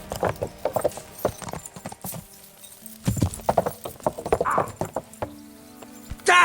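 Horse hooves clip-clop in the medieval video game Kingdom Come: Deliverance, sounding as an irregular run of close, hollow hoofbeats with gaps between bursts, backed by faint game music and a whinny-like sound.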